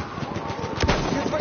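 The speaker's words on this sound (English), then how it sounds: "Feindliches Maschinengewehr." An enemy machine gun fires in Battlefield 1 as a quick, rattling run of shots, moderately loud, with a voice speaking over it.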